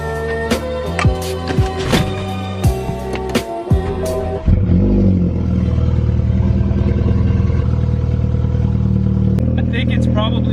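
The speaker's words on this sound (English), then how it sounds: "it's probably time for me to turn my cold start back off because it's so loud." A BMW F30 with a Bootmod3 tune fires up in a loud cold start, its engine catching with a sharp burst and then settling into a steady, rumbling high idle after a stretch of clattery cranking.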